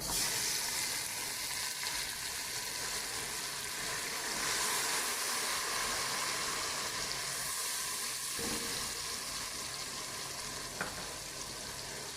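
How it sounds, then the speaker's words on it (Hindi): Ginger garlic paste fries with onions in hot oil for a mutton yakhni pulao, giving a loud, continuous close sizzle with a few faint scrapes and no voices. "अभी इसमें मैं डालूँगी अदरक लहसुन का पेस्ट"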